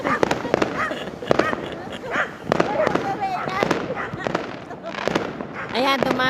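Fireworks and firecrackers bursting on New Year's, with repeated sharp cracks and pops scattered through the clip, some near and loud, under people talking and cheering.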